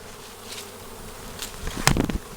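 A bee swarm buzzes in a low steady hum, with a few louder, closer passes building near the end.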